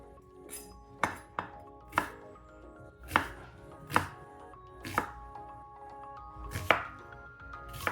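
Knife chopping yellow onions on a cutting board, about a dozen sharp, irregular chops spread across the stretch, close and clear, over faint background music with no talking.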